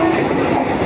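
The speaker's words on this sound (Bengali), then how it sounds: "এই যে বন্দে ভারত বেরোচ্ছে এখন।" Vande Bharat train pulling out of Rampurhat station, a loud, close, continuous rumble of railcars rolling past, steady and dense for the whole brief moment.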